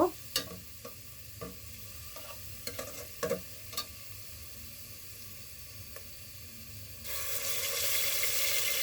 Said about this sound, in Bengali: আদা রসুনের পেস্টটা দেওয়ার পরে একটু ভালো করে নাড়াচাড়া করে নিতে হবে যাতে নিচে পুড়ে না যায়